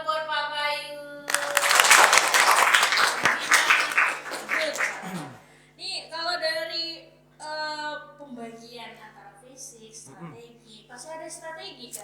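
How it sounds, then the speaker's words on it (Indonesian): Audience applause for a guest on an Indonesian futsal talk show, a burst of clapping lasting a few seconds, followed by people talking. "Tepuk tangan dulu dong buat Pak Bayu."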